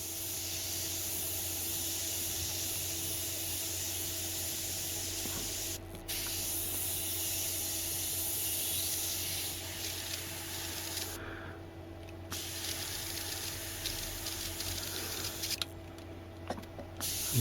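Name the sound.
airbrush spraying paint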